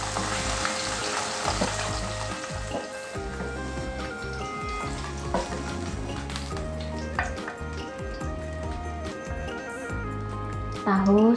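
Tofu fries in a pan with a continuous crackling sizzle, while a voice talks over it and a few clinks of utensils break through near the end.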